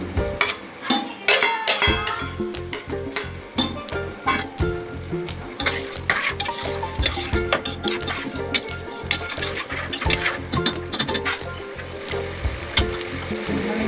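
Chopped onion frying in a pressure cooker for potato poha, with a utensil stirring and scraping in quick clinking strokes over a steady sizzle, close and fairly loud throughout.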